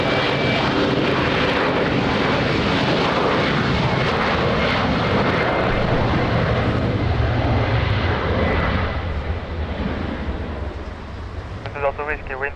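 An airliner on approach to Lisbon Airport in wind and rain gives a loud, steady engine roar that fades slightly near the end, with radio voices talking underneath.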